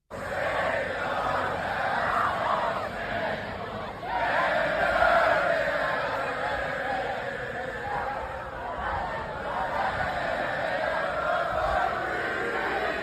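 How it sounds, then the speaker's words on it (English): A large crowd at an outdoor gathering where a Palestinian flag was replaced by an American flag, with sustained cheering, shouting and chatter rising and falling for the whole span, loud but somewhat distant and blended together. "They all listen to that crowd. Listen to the cheers. Just cheering."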